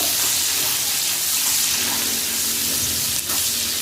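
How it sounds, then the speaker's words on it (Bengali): Chopped onions hitting hot oil with curry leaves for a pumpkin and prawn curry, a loud close hiss and crackle running continuously, briefly dipping near the end. "এখন দিয়ে দেবো কুচানো পেঁয়াজ পেঁয়াজটা একটু লাল লাল করে ভেজে নেবো"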